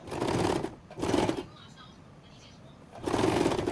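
A sewing machine stitches a fabric strip in short bursts, three close runs of whirring separated by brief pauses.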